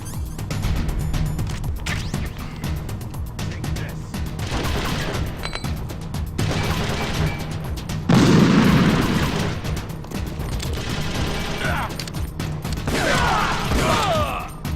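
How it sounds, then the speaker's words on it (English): Grenade explosions and gunfire in the video game Metal Gear Solid: Twin Snakes, repeated booms and rattling shots over a steady game background, with one heavier blast near the middle, fairly loud throughout. "Now they're gonna throw a grenade."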